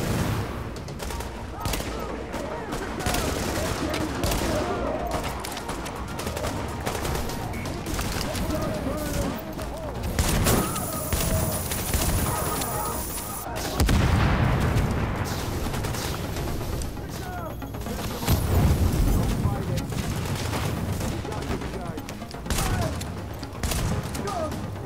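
Dense gunfire from The Division video game, with bursts and volleys of shots layered over a constant busy din of combat, loud and continuous throughout, punctuated by heavier booms.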